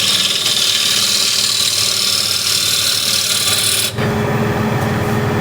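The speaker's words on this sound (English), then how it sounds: "Just remove the bulk of it here. This is spindle gouge." A spindle gouge cuts wood on a lathe, making a loud, continuous rasping and scraping over the spinning workpiece's motor hum, with a brief change in tone partway through.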